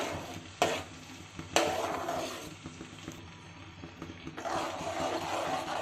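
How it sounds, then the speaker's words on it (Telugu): Semolina being stirred into boiling water in a pot, a steady scraping and swishing with two sharp knocks of the spoon against the rim, close and continuous with no talk. "ఇప్పుడు బొంబాయి రవ్వ వేసేటప్పుడు కలుపుకుంటూ ఉండాలి, లేదంటే ఉండలు కట్టేస్తాయి."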